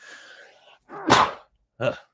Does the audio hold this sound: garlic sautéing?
no